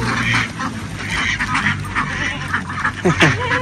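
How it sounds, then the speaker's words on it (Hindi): Ducks at feeding time quacking in a lively, overlapping chorus, with a clear burst of calls near the end; a voice talks briefly underneath. "अब जनाब डोनल डक्स को फीड डालने का टाइम आ गया"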